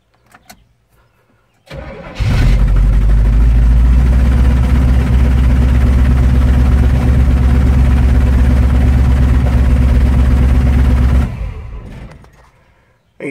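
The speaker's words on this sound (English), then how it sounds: "keep this truck idling at a safe RPM" A truck engine cranks and catches, then idles loudly and steadily for several seconds before shutting off.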